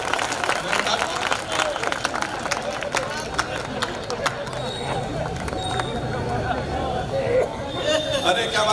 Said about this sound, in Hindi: तालियां जोरदार बजाइए एक बार।